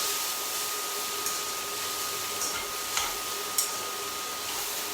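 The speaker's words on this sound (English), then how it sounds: "slide the chopsticks underneath, turn them over, and then stir those vegetables in as you do" Vegetables for a vegan Singapore chow mein are stirred and turned in a hot pan with chopsticks, a steady soft sizzle running throughout with a few faint clicks of utensils, no voices.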